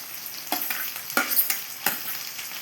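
Onions frying in a pan, a soft sizzle broken by a few sharp stirring scrapes spaced about half a second apart, close and fairly quiet with no voices.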